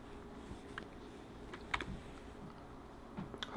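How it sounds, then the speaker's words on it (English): A computer mouse is clicked a few times during a talk show recording, giving faint, sparse, sharp ticks scattered over a quiet room background with no speech. "Sorry if you keep hearing me clicking the mouse."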